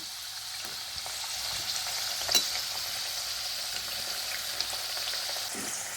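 Badam puri fries in oil on a low flame, a steady close sizzle with faint stirring clicks throughout, no voices.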